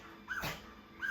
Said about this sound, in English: Don't mind that, that's just my dog, Jin.